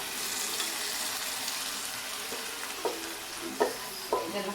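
Mutton dropped into a hot tempering, sizzling steadily in oil while a spoon scrapes and stirs, with a few distinct clunks of stirring near the end standing out above the constant frying hiss.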